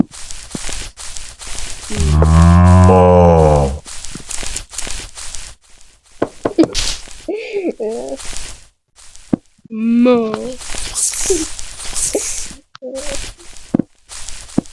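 A cow in the Multicraft video game gives one loud, drawn-out moo lasting about two seconds early on, followed by people talking and scattered clicks and taps.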